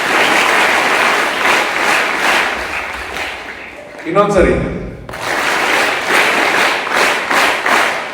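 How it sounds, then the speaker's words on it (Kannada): Loud applause from a crowd of high school students at a school event, a dense clapping roar that briefly dips and then surges back, while a speaker's voice is heard over it. "ನೀವೆಲ್ಲರೂ ಒಂದು ಜೋರಾದ ಚಪ್ಪಾಳೆಯನ್ನು ತಟ್ಟಿ ನೋಡೋಣ"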